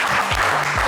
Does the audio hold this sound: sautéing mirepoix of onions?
no